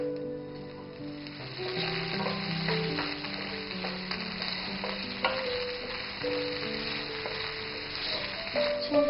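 Shrimp fry in a hot pan with a dense, continuous sizzle and crackle that runs unbroken from start to finish, close and fairly loud, with scraping stir sounds mixed in and no talking.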